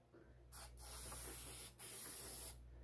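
An aerosol spray paint can laying a medium coat on car tail lights: three bursts of hissing spray, a short one then two longer, steady passes, close and clear over a quiet room.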